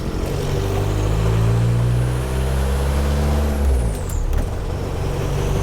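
A TDI-swapped VW mail truck revs while driving, a loud close diesel drone climbing in pitch before easing off, followed by a brief high hiss as the engine settles.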